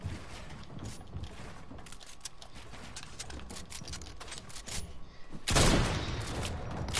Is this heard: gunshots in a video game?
yes